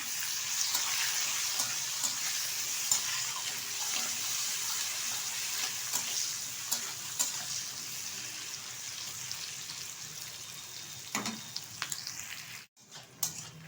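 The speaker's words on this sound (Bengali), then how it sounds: "পেঁয়াজটা হালকাভাবে ভেজে নেব, খুব বেশি কিন্তু আমি ভাজবো না।" Chopped onion fries lightly in a pan for a country-chicken and potato curry, giving a continuous soft sizzle with scattered crackles; near the end a few utensil knocks interrupt before it briefly quiets.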